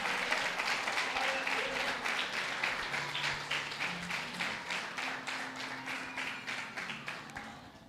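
A church congregation applauding during an evening worship service, a full room of hands clapping steadily for about eight seconds and slowly thinning out.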